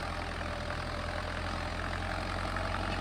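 A tractor engine running steadily in four-wheel drive, pulling in third gear of the medium range, gives a constant low rumbling drone at close range with no talking.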